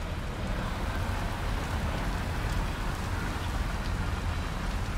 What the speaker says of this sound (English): How long can this rain go on for?